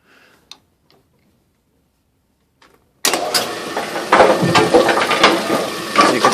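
A lawn tractor with its clutch disengaged starts up after a few faint clicks and near-silence, then runs loud and close with a rough, steady engine roar for the rest of the clip.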